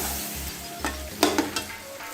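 Chicken with tomatoes and green chillies frying and being stirred in a pan for haleem, with a steady soft sizzle under several louder scraping stir strokes near the end.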